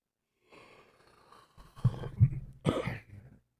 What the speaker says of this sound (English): I can feel my coughing starting to come back